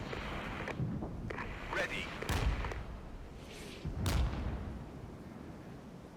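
Incoming counter-battery artillery fire in the game Regiments: a few heavy, booming impacts land a couple of seconds apart, deep and rumbling, under ongoing radio-style talk.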